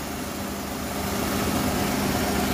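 A Suzuki Wagon R FX car engine idles steadily, a constant low rumble and hum with no voices.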